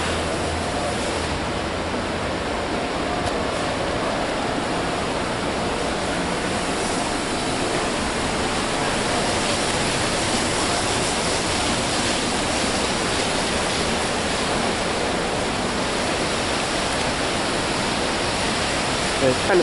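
Water rushes steadily down a water slide beside the kids' pool on the Norwegian Getaway cruise ship, a constant broad whooshing wash that stays loud and unbroken throughout.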